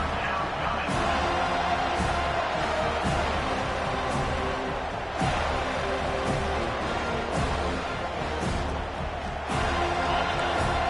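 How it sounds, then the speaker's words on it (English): Home crowd at a college football game in a video game broadcast, a dense, steady roar of cheering filling the stadium throughout, loud and continuous with small swells. "This crowd bringing the energy and noise early."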